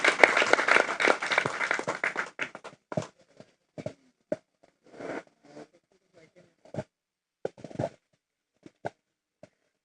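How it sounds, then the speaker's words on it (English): Workshop audience applause at a hotel, a burst of many clapping hands at first that thins quickly into scattered, isolated claps and sparse sharp hits, with brief voices between. "A round of applause again."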